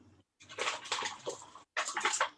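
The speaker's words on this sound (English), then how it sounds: "2 cups of hot water." Hot water poured steadily into a measuring cup for syrup, a loud continuous splashing stream that stops briefly and then resumes.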